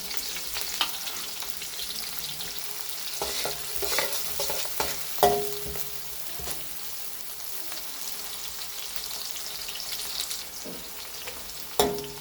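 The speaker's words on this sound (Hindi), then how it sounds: "पाँच मिनट तक हमें प्याज को भूनना है जब तक ये लाइट ब्राउन ना हो जाए।" Onions frying in a pot for matar pulao, a continuous close sizzle with occasional spoon scrapes and stirring knocks throughout, no one speaking.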